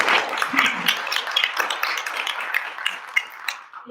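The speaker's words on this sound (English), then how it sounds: "let's give a round of applause" Audience applause at the annual meeting of an equal-rights alliance, a dense patter of hand claps filling the room for several seconds, sustained and moderately loud before thinning out near the end.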